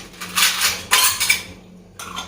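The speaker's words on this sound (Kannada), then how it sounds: "ಒಂದು ಪ್ಲೇಟ್ ಮುಚ್ಚಿಟ್ಬಿಡಿ" Two or three bright clinks of crockery, a plate set down on a glass, close and fairly loud with brief pauses between.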